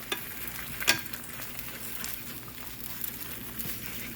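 Beaten eggs cook in a frying pan while a fork stirs them around, a quiet steady sizzle with a few light scrapes and taps, close but faint.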